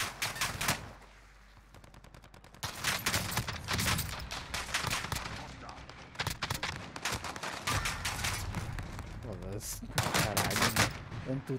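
Rapid bursts of gunfire in the video game Warzone crackle repeatedly, dense volleys of sharp shots with short pauses between them, and a voice briefly speaking.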